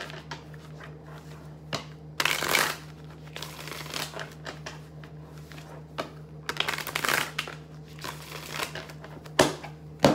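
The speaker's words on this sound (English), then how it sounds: "I know some of you don't really like the shuffling" Tarot cards shuffled by hand during a reading, with soft riffling and crinkly slapping that swells into louder bursts of card noise several times, close to the microphone, with no talk.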